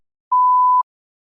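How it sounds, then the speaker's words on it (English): A lone, even test-prompt beep from a TOEFL practice exam sounds for roughly half a second against complete silence, pure-toned and mid-pitched. "Please begin speaking after the beep."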